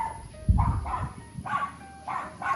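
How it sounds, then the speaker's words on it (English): Several dog barks in an uneven series, somewhat distant, over a faint background hum. "there's someone's dogs barking"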